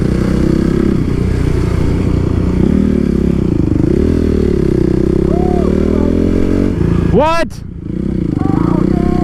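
Motor scooters buzz past close by, their engines droning and rising in pitch, while a voice briefly speaks over the traffic noise.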